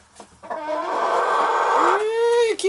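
Rooster and chickens in a cage cluck and squawk loudly and close, with a rising rooster call near the end; no one talks.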